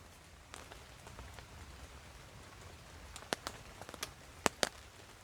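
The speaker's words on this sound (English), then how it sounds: "it's lovely, just listening to the rain" Steady rain patters on a camp tarp at a wild campsite, a soft continuous hiss broken by several sharper drops near the end, fairly faint and with no voices.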